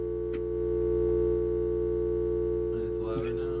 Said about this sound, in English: I hear a dial tone and a hum.